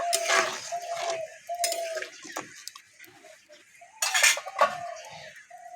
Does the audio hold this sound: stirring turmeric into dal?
yes